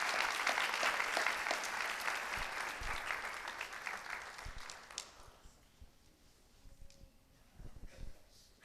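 An audience at a high school senior honors night claps for physical education award recipients, a loud burst of applause that fades out after about five seconds, leaving a quiet room with faint stray noises.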